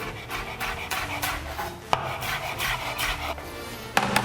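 A knife slices green onions thinly lengthwise on a cutting board, giving steady close rasping strokes with occasional sharp taps of the blade on the board, and no talking.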